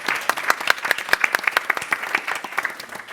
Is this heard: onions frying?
no